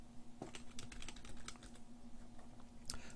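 Keys clatter on a computer keyboard as the word Delete is typed as a button label, a quick run of close, crisp clicks followed by a lone keystroke near the end.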